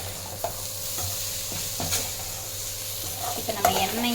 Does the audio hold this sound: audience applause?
no